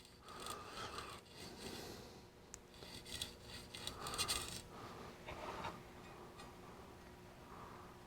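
A culinary knife edge is rubbed across a sharpening stone to take off the burr, quiet rasping strokes in short irregular bursts, close and faint.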